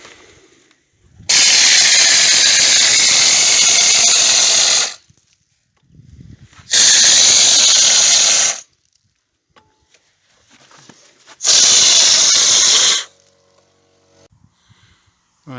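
A small air compressor sprayer blasts a scratch coat of fake stone render onto a gatepost in three loud, sustained hissing bursts of a few seconds each, separated by short quiet gaps.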